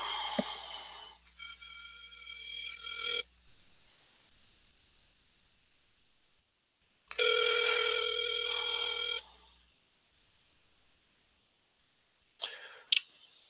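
Telephone ringing on an outgoing call, two long ring bursts of a couple of seconds each separated by a silent pause, with a short burst at the end before the line picks up.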